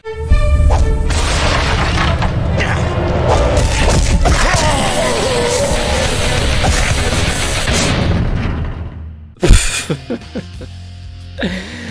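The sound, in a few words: fight sounds from video game Urban Reign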